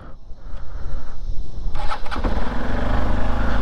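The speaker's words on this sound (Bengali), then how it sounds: "তো এখন আমরা করব বাইকের কোল্ড স্টার্ট।" A motorcycle engine is cold started after sitting outdoors overnight, a short cranking whir that catches into a loud, steady, close idle rumble.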